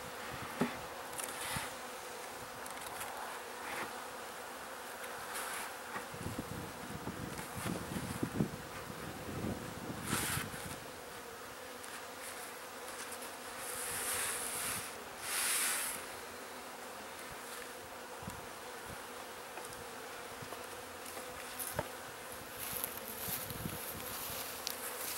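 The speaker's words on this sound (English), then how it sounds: "this one the bees are a lot more active" Honey bees buzz continuously around a hive while nucs are installed outdoors, a close, steady drone with individual bees flying past the microphone and light wind rustling underneath, with no voices.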